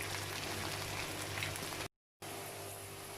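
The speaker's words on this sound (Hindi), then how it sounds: "तो आप देख रहे हैं भिंडियाँ बहुत अच्छे से फ्राई हो रही हैं" Okra frying in hot oil gives a steady, dense sizzle and crackle like light rain, close and even, broken by a brief silent gap partway through.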